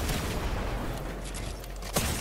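Gunfire rings out in a 1v1 video game shooter match as a dense, booming wash of shots. A sharper report cracks out near the end, with no talk over it.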